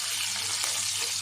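Crushed red chilli, whole dried chillies and chopped green chillies hit hot oil for sarson ka saag, giving a steady, close, loud hissing sizzle.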